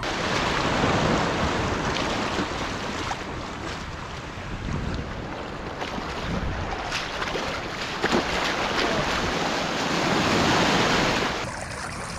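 Rough ocean surf churns around a small kayak at sea, a continuous loud wash of water and splashing mixed with strong wind buffeting the microphone, swelling and easing over several seconds without talk.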